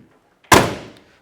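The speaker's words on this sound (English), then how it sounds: "Door shut nice. No creaks, groans, metal on metal." A 1968 Ford Mustang convertible door shuts with a single solid, close thunk that rings briefly and fades, with no talking.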